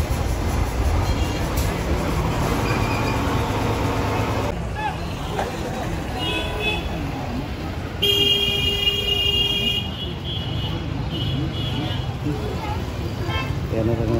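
Crowded festival-season road traffic in Butwal, with cars, jeeps and auto-rickshaws packed line after line and a steady roadway rumble. Car horns honk briefly, mostly in a sustained toot partway through, with voices murmuring in the background.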